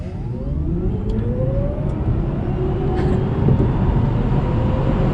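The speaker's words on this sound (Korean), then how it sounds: "자, 그러면 저도 급가속을 한번 해보도록 하겠습니다." Tesla Model S 90D accelerating hard from inside the cabin, a steady loud low rumble of road and tire noise with a faint rising electric whine sweeping upward, no engine roar, continuous throughout.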